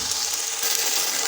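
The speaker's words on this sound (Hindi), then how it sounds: "अब इनको फ्राई कर लेंगे थोड़ी देर" Peas fry with garlic and ginger in a hot pan, giving a steady, close, bright sizzle with no talking.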